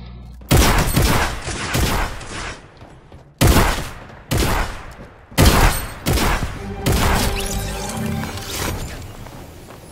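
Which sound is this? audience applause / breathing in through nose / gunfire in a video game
gunfire in a video game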